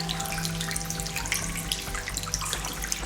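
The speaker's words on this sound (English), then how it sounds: "a fountain of cold, clear water flows through natural fissures in the rock" Cold, clear water trickling and splashing through natural rock fissures inside an old Connecticut copper mine, a faint continuous flow dotted with small drips and echoing splashes.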